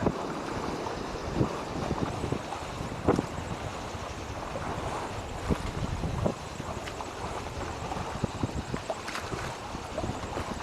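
A sailboat on a port tack cuts across the Strait of Georgia in the Pacific Northwest, with constant wind roar, rushing water and buffeting against the microphone. Occasional thumps rise above the wash, and no one speaks.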